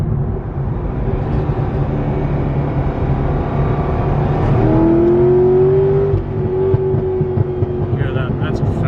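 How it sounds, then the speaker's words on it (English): A Corvette Z06 Carbon Edition engine with factory exhaust drones and revs steadily, with a rising whine midway and faint crackling pops from the exhaust on the overrun. "Crackles and pops."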